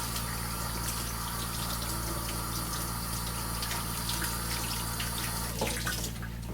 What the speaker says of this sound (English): You can just pop your felt out and just roll it under the water.